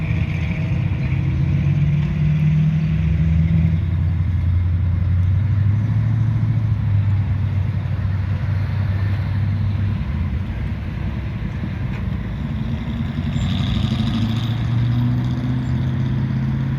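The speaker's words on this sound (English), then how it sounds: "It's good to see all the oncoming traffic stopping." Oncoming road traffic slowing and stopping, a steady low engine rumble from cars that swells and eases over several seconds, fairly close and continuous with no talk.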